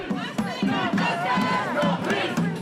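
A large protest crowd marching through city streets from Nubian Square to Copley Square in Boston chants and shouts loudly in rhythmic bursts, voices overlapping close by.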